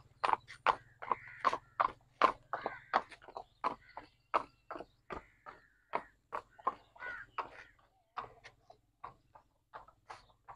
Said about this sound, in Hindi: बहुत ही प्यारा घोड़ा, जरा इसको चला के दिखाएं ना